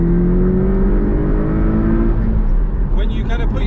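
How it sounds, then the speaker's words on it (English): Porsche 718 Cayman T with a 2-litre flat-four engine producing 300 horsepower, revving loudly and steadily up close, its pitch rising through the first half before settling into a rougher, busier drone with a higher whine near the end. "the sound of the Cayman T. And the reason for that is it runs a 2-litre flat 4 engine that produces 300 horsepower"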